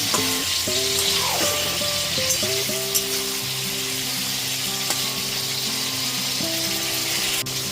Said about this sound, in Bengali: 4 থেকে 5 মিনিট ধরে ঝিঙেগুলোকে ভেজে নিয়েছি।